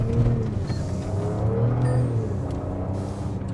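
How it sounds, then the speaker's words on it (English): A 2025 Jaguar F-Pace R-Dynamic S accelerates in traffic, its combustion engine rising in pitch and dropping as the transmission shifts gears, heard steadily from inside the cabin. "You can hear this transmission shifting gears."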